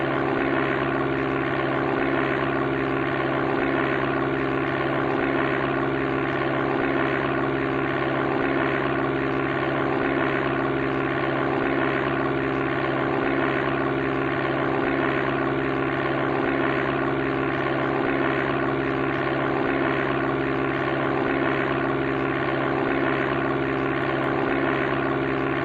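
Video game aircraft engine from Sublogic Flight Simulator II on the Amiga, a loud, steady synthetic propeller drone with a fixed buzzing tone that holds unchanged throughout.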